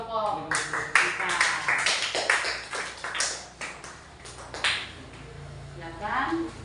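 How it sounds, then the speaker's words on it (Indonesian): Scattered hand claps from a student group in a classroom, several sharp separate claps over the first few seconds that thin out, mixed with voices talking. "tepuk tangan untuk kelompok kita"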